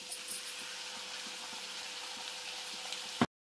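Spice paste sizzles steadily in a hot pan for a bitter gourd stew, a dense continuous fry hiss with faint stirring ticks, close and even before stopping abruptly.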